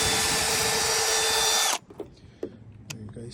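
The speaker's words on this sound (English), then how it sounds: "There you guys see, we're drilling the holes." A power drill bores holes for a vinyl barn-style fence in one loud, steady, high-pitched whine that stops abruptly, followed by a few faint knocks and handling sounds nearby.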